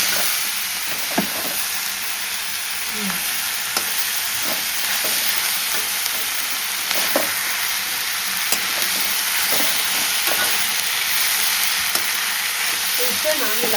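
Fish masala fries in a pan as turmeric is stirred in, a continuous close sizzle and crackle with occasional sharper pops and light utensil scrapes, without talk.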